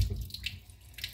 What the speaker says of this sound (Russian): Так, включаем воду чуть-чуть.